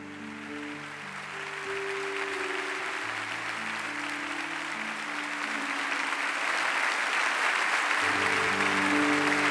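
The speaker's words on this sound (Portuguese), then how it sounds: "Vou pedir uma salva de palmas a Jesus por essas mamães." A church congregation applauds mothers with loud, sustained clapping that swells slightly over time while sustained keyboard chords play underneath, shifting pitch partway through.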